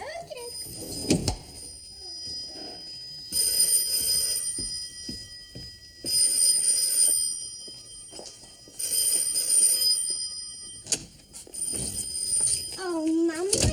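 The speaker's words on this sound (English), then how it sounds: "Oh, Mum, you might answer the phone for me." An old-fashioned household telephone rings in repeated bursts, moderately loud, with a family conversation carrying on between and over the rings indoors.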